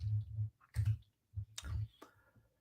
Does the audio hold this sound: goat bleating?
no